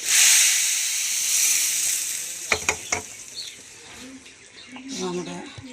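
A hot tempering of oil, shallots, curry leaves and chillies is poured into mackerel curry, starting with a strong close sizzle, then a few sharp splashes as it lands, and a hissing fade with a voice briefly over it.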